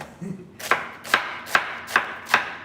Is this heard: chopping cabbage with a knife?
yes